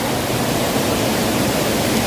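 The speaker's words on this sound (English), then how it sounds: "This is Sabasaba River. Actually, this is a known waterfall" Big waterfall on the Sabasaba River in Murang'a, Kenya, a loud, unbroken roar of falling water, dense and even from start to finish with no voices.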